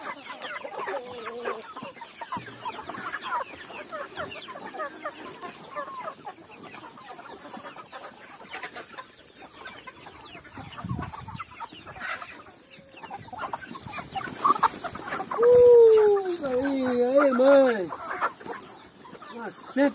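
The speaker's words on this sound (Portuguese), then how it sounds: "As galinhas do Jardim dos Orixás." Chickens cluck and murmur in a garden yard among a flock of over a hundred birds, near and steady, with a louder squawking call toward the end.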